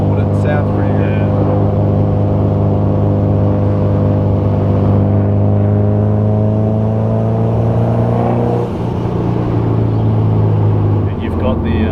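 A turbocharged car engine drones steadily and loudly, its pitch climbing as it accelerates in boost from inside the cabin, with a brief dip near the end.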